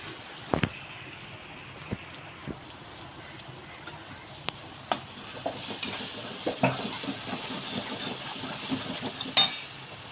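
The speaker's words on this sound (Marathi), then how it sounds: "तर हे सर्व व्यवस्थित तेलामध्ये परतून घ्यायचं." Spices with salt and capsicum sautéing in oil make a low crackling sizzle, punctuated by sharp taps and scrapes of a spatula against the pan that grow busier toward the end; no one speaks.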